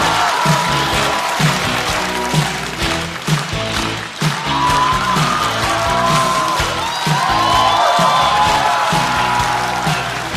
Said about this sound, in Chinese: 掌声欢迎季烨